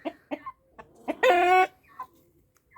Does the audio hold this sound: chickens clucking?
yes